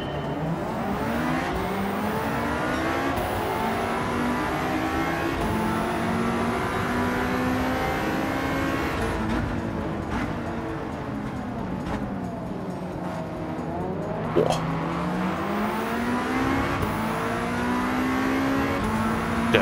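Race cars accelerating off the grid at a race start at Fuji in Gran Turismo 7, a loud continuous engine roar with pitch rising through gears and dipping on shifts, several cars blending together up close.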